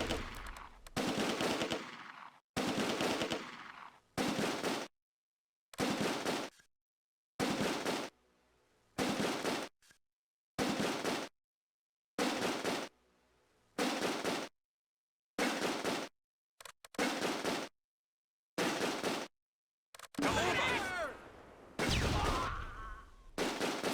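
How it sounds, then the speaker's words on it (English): Bursts of automatic gunfire and explosions in a close-quarters firefight from the Close Combat: A Bridge Too Far war game, set in Operation Market Garden, with loud repeated volleys broken by short silences. "Furious close quarters battle ensues, with grenades thrown and casualties on both sides."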